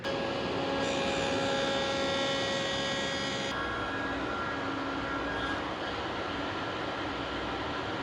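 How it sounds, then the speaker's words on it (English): A table saw with a dado blade cuts dados in wooden stool leg blanks, making a loud, steady whining roar with a ringing tone that shifts partway through the cut. "we have the dados cut on 3 sides, the inside face, this side, that side"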